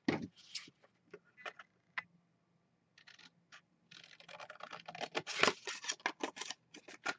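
Scissors cut a square of paper for a DIY corner bookmark, making a run of crisp, close snips, sparse at first, then a denser cluster of rapid cuts toward the end, with quiet pauses between.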